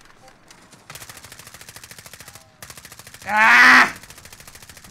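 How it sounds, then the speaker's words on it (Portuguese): Rapid automatic gunfire in the video game Call of Duty Warzone crackles in fast rhythmic bursts, with a short gap and a loud blast partway through; a player cries out once. "Porque tem três caras atirando em mim."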